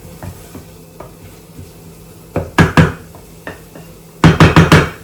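Spices frying in oil in a pan for palak paneer, with scattered sizzles and pops followed by two bursts of rapid stirring scrapes, close and fairly loud.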